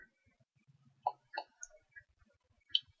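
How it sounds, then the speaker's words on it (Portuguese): A computer mouse gives a few quiet, sharp clicks, spaced irregularly against near silence, with a final crisp click near the end. "Eu vou clicar então nessa segunda ferramenta Aparar"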